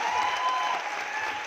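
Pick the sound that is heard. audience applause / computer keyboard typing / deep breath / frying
audience applause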